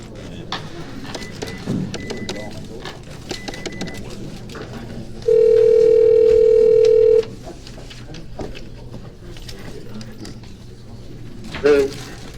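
A telephone dial tone sounds steadily for about two seconds during a township council meeting, as someone prepares to call back. Room murmur and voices surround it, with faint button clicks before it.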